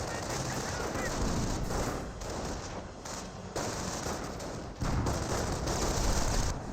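Sustained battle gunfire from tanks and riflemen in the strategy game Company of Heroes, a dense, continuous wash of rattling shots and blasts that stays loud throughout with small dips.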